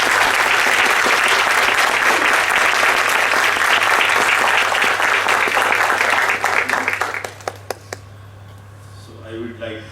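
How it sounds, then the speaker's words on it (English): An audience at a school staff orientation claps for a departing colleague: loud, continuous applause that gradually tapers into a few last scattered claps, followed by a quiet room and faint voices. "I would request all of you to clap hands for her"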